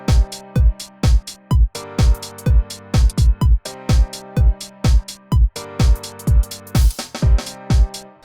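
The Alicia's Keys piano in Kontakt plays repeated chords over a drum beat with punchy kicks and crisp hats in a steady, loud, driving rhythm, with one brief break partway through.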